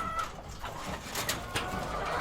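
Pet chickens at feeding time cluck and chirp softly nearby, a scattered run of bird calls over quiet background.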